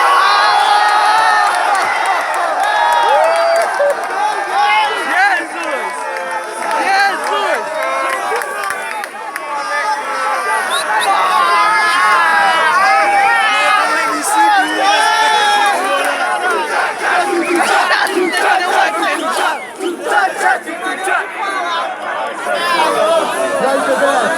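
A large crowd at a freestyle rap battle cheers, shouts and whistles continuously and loudly, a dense roar of voices with no pauses.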